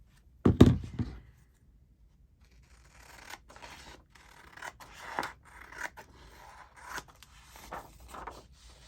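Scissors snip through paper while a book cover for an Italian Emblem journal is prepared, opening with one loud close cut, then a pause and a run of quieter rasping, scraping cuts and rustles at an uneven pace.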